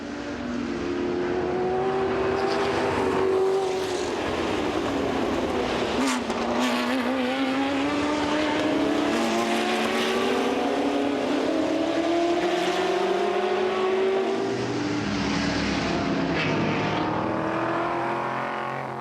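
Ford GT40 race cars roar past at speed during the Le Mans Classic 2004, their engine notes rising and falling in long sweeping pitch bends, loud and continuous with no pause and no talk.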